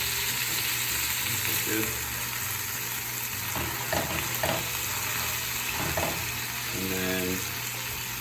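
Burger patties for a caramelized onion cheeseburger sizzling loudly in a frying pan after flipping, a constant dense crackle with a few spatula scrapes and presses, while someone speaks briefly over it.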